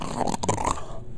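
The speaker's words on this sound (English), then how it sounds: "What kind of snorting or snoring is that?" A dog snorts and growls in a short, close, rough burst lasting about a second.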